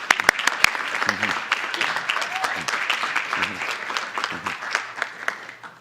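Lively applause from an audience at a school board meeting fills the whole stretch, a dense patter of many hands clapping with a few voices underneath.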